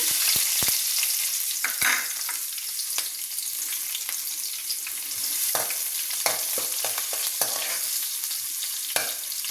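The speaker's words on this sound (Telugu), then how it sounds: "వేగిపోయాయి తాళింపు గింజలు ఆనియన్స్ వేద్దాము" Onions sizzle and crackle in hot oil with tempering seeds for a fried brinjal dish, a steady close frying hiss with scattered pops and stirring scrapes, no talking.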